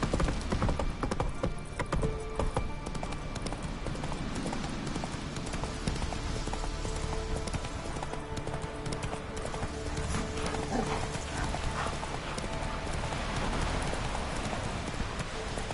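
Hooves of a horse galloping in The Witcher 3 video game beat a steady, continuous clip-clop across the whole stretch, mixed with game music and ambient sound, with no talking.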